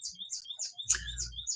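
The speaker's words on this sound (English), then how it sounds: "I hear a beautiful, beautiful bird right outside my window. The window's open a crack, and I can hear it just chirping" Small songbird outside an open window gives a series of high, thin chirps in quick repeated bursts, clear and fairly close, with a faint low rumble partway through.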